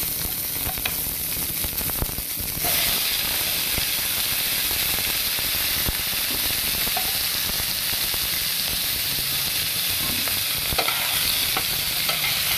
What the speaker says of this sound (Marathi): आता त्याबरोबर आपण टोमॅटो चिरलेला आहे तो पण त्यात घालायचा आहे।